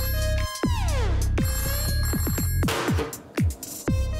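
A phone rings with a bright electronic ringtone, repeated chirping tones and sliding melodic bursts sounding close and loud, with no one talking over it.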